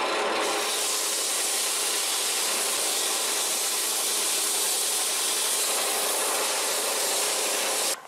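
Sandpaper rubs against a hard angelica wood goblet spinning on a lathe, a continuous loud, bright hiss that holds steady for about eight seconds before stopping abruptly, with no talking.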